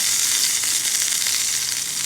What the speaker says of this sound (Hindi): ये हमारा जो है कड़कड़ा रहा है ज़ीरा।